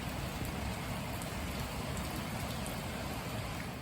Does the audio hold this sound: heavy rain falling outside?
yes